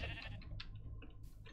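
A sheep bleats in a video game while map building is under way, short and fairly close against steady low background hum.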